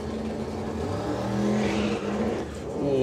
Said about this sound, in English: We can hear the tyres squealing in protest there.